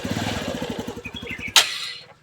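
A motorcycle engine runs close by with a throbbing, pulsing rev that rises and falls, cut by a short sharp burst of noise near the end before fading.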